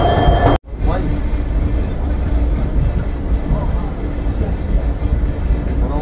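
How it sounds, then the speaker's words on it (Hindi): Nagaland Express, train 15669, departs Guwahati railway station with a loud, continuous rumble and rattle of the moving train, steady and close throughout after a brief cut near the start. "तो बिल्कुल ऑन टाइम डिपार्ट हो रही है ट्रेन"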